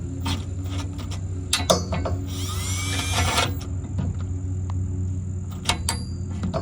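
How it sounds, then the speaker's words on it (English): A power drill whines through a short burst of about a second while drilling a hole during a CB radio installation, surrounded by clicks, handling knocks and a steady background hum. "Gonna try to drill up here."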